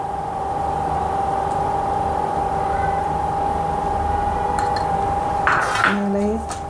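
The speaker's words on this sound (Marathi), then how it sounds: "मिक्स करूया तसं आवाज येऊन आला छान क्रिस्पी झालेली आहे" Crispy masala shankarpali being tossed and mixed in a pan: a short burst of scraping and rattling clatter near the end, over a steady background hum.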